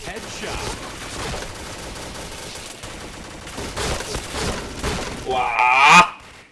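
Video game shooting crackles in rapid, continuous volleys that build to a loud final burst before cutting off, with a vocal groan in the mix.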